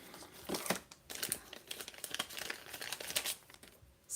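A narrow strip of tear-and-tape is ripped by hand, giving close, crackly rasping and crinkling bursts in quick succession with no talking.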